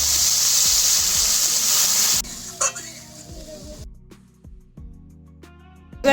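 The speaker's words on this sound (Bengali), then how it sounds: "এইবারে এর মধ্যে দিয়ে দেবো জল" Water pours into a hot frying pan for a small-fish curry (chuno macher), a loud steady sizzle that cuts off abruptly, followed by quieter bubbling, a few utensil knocks and stirring scrapes.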